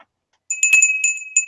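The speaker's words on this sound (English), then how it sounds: "And it's a bell." A small Avon Christmas bell from 1990 rung by hand after a brief silence, giving several bright, clear metallic dings close up in an uneven shaking rhythm.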